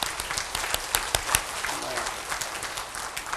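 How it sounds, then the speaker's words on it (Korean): A congregation gives a short burst of clapping at a church gathering, rising and falling with uneven peaks, with voices faintly mixed in. "듣기 어때요? 박수 듣기 어때요?"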